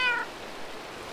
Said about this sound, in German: Bleib mal da sitzen, Kätzchen.